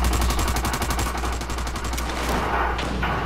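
Rapid gunfire from the multiplayer shooter America's Army: Proving Grounds, with a dense run of sharp, loud reports repeating in quick succession and continuing throughout with no voices.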